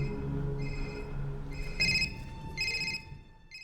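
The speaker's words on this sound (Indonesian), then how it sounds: "Kemudian ia mendengar ponselnya berdering." A phone rings in short, bright electronic trills, two bursts close together, over a faint low background hum.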